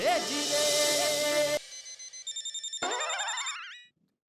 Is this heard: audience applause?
no